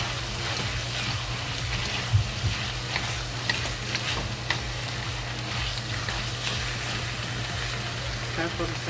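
Eggplant stir-frying in a wok with ginger and scallion, a steady loud sizzle with scraping stirs and occasional soft clanks of the spatula throughout.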